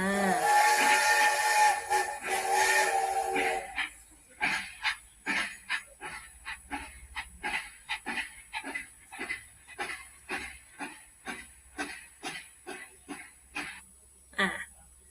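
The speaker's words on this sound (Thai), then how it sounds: "ก็คือเสียงรถไฟ นั่นเอง" A train sound for a children's listening game: a loud, steady, harmonic steam-whistle-like blast for about three seconds, then a long series of evenly spaced puffing chuffs, alone with no talk.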